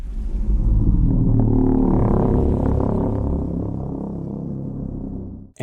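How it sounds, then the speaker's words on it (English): Godzilla's radiation coursing through his body in a monster film, a dense, droning low rumble with swelling tonal layers that holds steady, then fades out near the end. "The sound of Godzilla's radiation flowing through his body."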